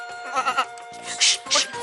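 A goat bleats three quick wavering times indoors near a bed, then gives two louder, harsher cries, all close by with a few short human exclamations mixed in.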